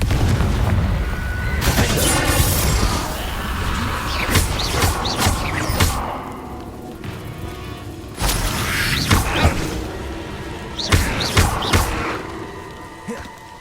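Spell blasts from the Confringo fire spell in Hogwarts Legacy, a series of loud booming explosive bursts with crackling impacts spread across the passage amid ongoing combat noise.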